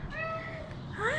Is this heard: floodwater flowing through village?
no